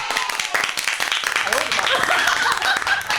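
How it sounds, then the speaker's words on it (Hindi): Audience applause at a school Principal's Day event, brisk scattered clapping that blends with voices and crowd chatter, steady and fairly close throughout. "तालियां"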